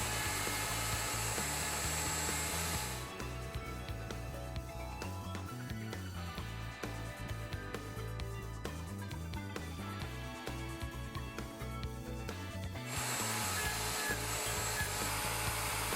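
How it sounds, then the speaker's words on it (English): A wood router with a Leigh FMT mortise and tenon jig cutting tenons, heard as a loud, steady high-pitched whine that stays continuous, with a grinding cutting tone through the middle stretch. "Retract the sight and repeat the procedure to route any number of matching tenons."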